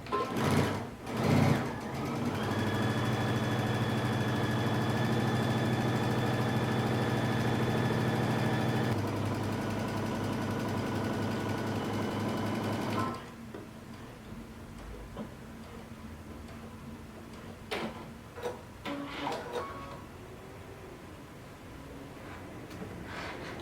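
A sewing machine stitches a pants crotch seam with a 5/8 inch seam allowance in a long, even whirring run that changes pitch partway through and then stops, leaving faint handling clicks and rustles.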